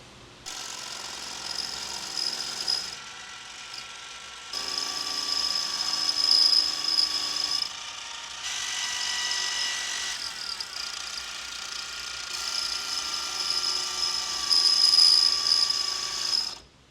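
Metal lathe cutting down a misaligned part for a custom YFZ450 build, a steady whining, grinding machining noise in several long passes with brief quieter gaps, no talk.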